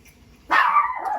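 A dog gives a single sharp, loud bark nearby that trails off into a short whine-like tail, over quiet background noise.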